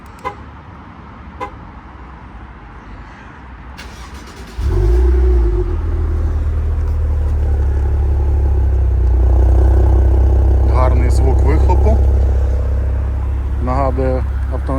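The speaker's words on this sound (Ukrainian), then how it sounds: "І пропоную вам запустити цей автомобіль, продемонструю спочатку ось такий режим запуску з ключа." A 2015 Maserati Quattroporte S Q4 with a 3.0 automatic is started with the key: quiet ticking and chimes, then the engine catches with a sudden loud roar and settles into a deep, steady idle rumble as someone talks.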